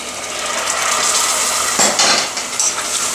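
Pasta being stirred in a pot with a splash of its cooking water, a steady wet sizzling and scraping with a few louder clinks of the utensil near the end, no talking.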